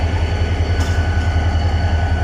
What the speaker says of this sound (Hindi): रिवर्स में चल रही है 152 down Shah Latif express जंपीर railway station पर।